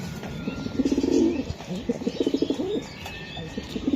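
Racing pigeons cooing close by, soft repeated throaty coos in short bursts with light chirps and faint background noise.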